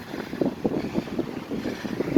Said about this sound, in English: Hopefully the wind dies down a little bit now and you can hear us.